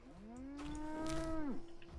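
A single drawn-out cow moo from a cow in Fallout 76, rising then falling off after about a second and a half, clear and fairly close over quiet background noise.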